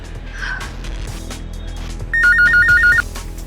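A telephone ringtone trills in a steady repeating pattern for about a second, loud and close, over low background noise.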